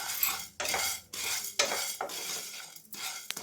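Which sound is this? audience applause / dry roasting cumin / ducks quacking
dry roasting cumin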